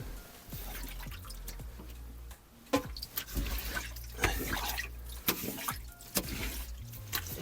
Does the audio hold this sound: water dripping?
yes